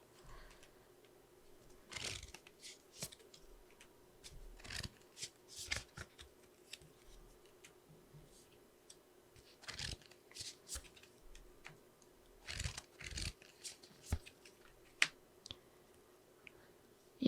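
Tarot cards are shuffled and drawn, with soft riffling bursts and light card flicks and taps spread out against a quiet, faintly humming room.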